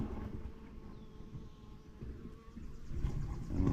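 Honeybees fly to and from their hive outdoors, a faint low buzzing hum with soft wind and slight swells in level.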